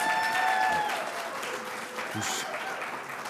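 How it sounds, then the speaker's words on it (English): A crowd applauds in a sustained burst of clapping that stays fairly loud, then eases off slightly toward the end. "that was a bigger applause than I got"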